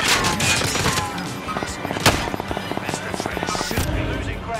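Gunfire in a Call of Duty Rebirth Island match, dense bursts of automatic shots and impacts layered over game noise, with players talking over it.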